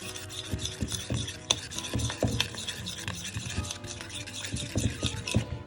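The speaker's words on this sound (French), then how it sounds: "Mélange bien." A spoon stirs maple syrup into a curry mixture for a pork dish, making busy uneven scraping and clinking against the bowl up close, with light faint sizzle and no talk.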